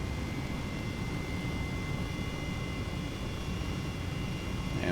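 Airbus H135 helicopter turbine in Flight Simulator 2020 spooling up from low idle on the ground, a steady broadband engine roar with a faint whine throughout, loud and continuous with no talk.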